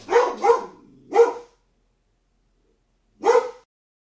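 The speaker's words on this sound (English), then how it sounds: "He's just barking." A dog barks in four sharp, loud bursts, three close together and then one more after a pause of about two seconds. The barks sound alone with no voices.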